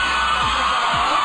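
A television studio audience screams and whoops in one brief, loud, continuous burst of crowd noise.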